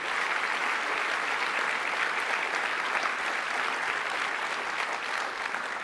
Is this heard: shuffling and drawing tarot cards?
no